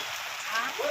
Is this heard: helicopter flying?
no